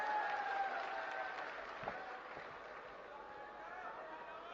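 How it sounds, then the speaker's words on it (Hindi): A crowd claps at a political rally in Sirsa, Haryana, giving steady, sustained applause that sounds somewhat distant and fairly soft. "ताली बजा के स्वागत करो"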